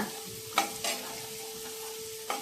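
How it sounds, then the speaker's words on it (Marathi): Crushed garlic and spices sautéing in a pan, a soft steady sizzle with a few brief scraping stirs of a spoon against the pan. "हे जरा परतून घेतलं, कच्चेपणा त्याचा घालवायचा."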